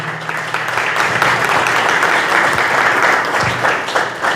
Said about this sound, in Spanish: Para ellos, fuertes aplausos.